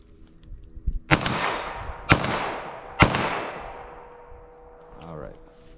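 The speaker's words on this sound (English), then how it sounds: "I'm going to fire as fast as I think I can land those shots." Three sharp gunshots from a .22 Magnum revolver, fired about a second apart, each a loud crack with a ringing decay, followed by a quieter tail.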